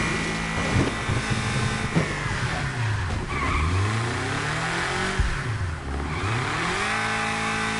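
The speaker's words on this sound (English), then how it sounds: "you actually slow down when you drift like you're supposed to" A car drifting in the video game Wreckreation, with its engine revving and falling in pitch while the tires squeal and skid through long slides. The sound stays loud and steady throughout.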